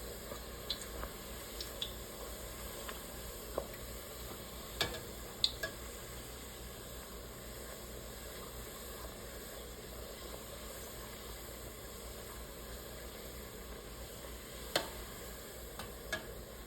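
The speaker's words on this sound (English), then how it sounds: "I'm gonna start by frying my chalupa. I'm gonna just add it to the oil." A chalupa fries in a pan of oil with a faint, steady hiss and bubble under scattered soft ticks and spoon taps, heard close and low throughout with no voices.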